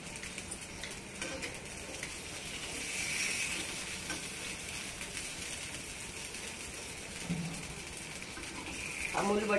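Moong dal dosa cooking on a hot pan with Amul butter, a steady soft sizzle and crackle running throughout at moderate level, with faint kitchen clatter near the end.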